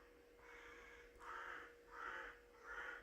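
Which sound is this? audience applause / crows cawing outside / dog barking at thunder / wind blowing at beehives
crows cawing outside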